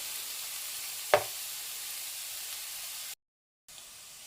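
Onions and green chillies frying in a pan, a steady faint sizzle with one brief louder clatter early on, then a short gap of silence before the sizzling resumes.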